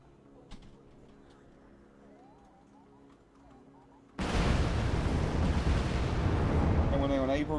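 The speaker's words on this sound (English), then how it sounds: "Now I'm going to be bombing the infantry." Artillery barrage in the real-time strategy game Wargame Red Dragon pounds infantry, quiet at first, then an abrupt loud, dense roar of blasts and rumbling explosions taking over midway and sustaining to the end.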